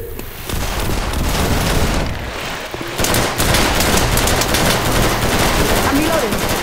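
Sustained rapid gunfire in a multiplayer shooter match, loud continuous bursts and booms filling the whole stretch, with a brief dip before firing resumes heavier.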